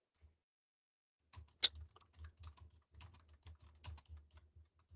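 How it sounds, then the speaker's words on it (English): Quiet, close keyboard clicks patter in an uneven stream, a handful of keystrokes per second with one sharper tap early on. "hear typing. I'm typing."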